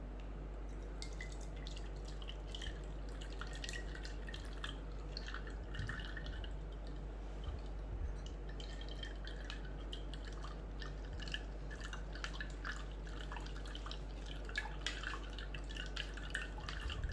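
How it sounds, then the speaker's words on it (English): Homemade buttermilk filters through into a container with faint, steady dripping and small liquid patters over a quiet background hum, close and without talk. "filter our buttermilk"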